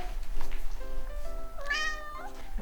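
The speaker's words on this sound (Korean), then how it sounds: "우리 티티 행복하면 야옹해." A house cat meows several times in a row, close and clear, with a drawn-out, rising cry in the middle, while a person speaks softly nearby.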